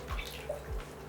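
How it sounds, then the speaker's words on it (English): Two cups of water poured into an Instant Pot of Kerala dal with turmeric, a soft steady splashing and trickle with a couple of low thumps, close and quiet, nobody talking. "So a total of 2 cups of water goes into our Instapot."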